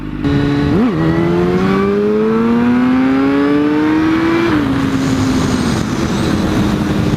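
An old sportbike engine revving hard during a wheelie, one loud, close rising whine that climbs steadily, holds, then eases off as the throttle drops.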